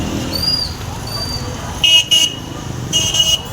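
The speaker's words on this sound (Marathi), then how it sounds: "हे बघा आता पण ट्रॅफिक आहे तिथे." Car horns honk in two loud bursts over steady roadway rumble on a packed, jammed market street in India crowded with shoppers, the traffic noise continuous and nearby between the toots.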